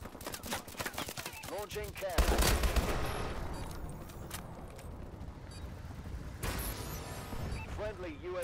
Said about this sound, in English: Launching cannon.